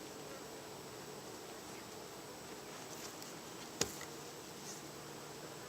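Honeybees buzz during a hive inspection as a steady, faint, close drone, with one brief sharp click partway through.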